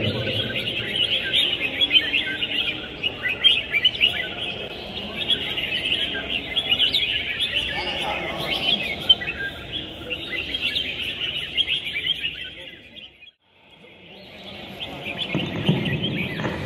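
Red-whiskered bulbuls sing at a songbird competition in Cẩm Phả, Quảng Ninh, with bright chirping phrases layered over steady crowd murmur and background bustle, dropping away briefly near the end before resuming.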